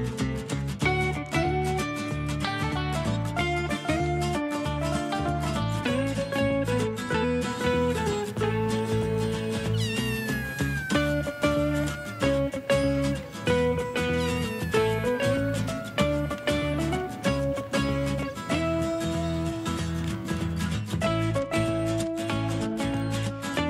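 A cat meows over and over for more than twenty seconds, a steady run of drawn-out, wavering cries with no talking.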